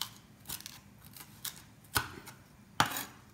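A kitchen knife is pressed down onto garlic cloves with salt on a board, making a few quiet, sharp crunching taps at irregular intervals against a hushed room background.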